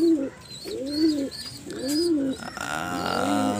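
Racing pigeons coo in repeated rolling phrases, near and clear, with a few faint chirps and no talk.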